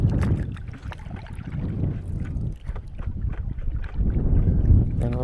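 Wind gusting hard across the microphone while paddling a kayak on open water near cliffs, a loud continuous low rumble and buffeting with faint paddle splashes, no talk.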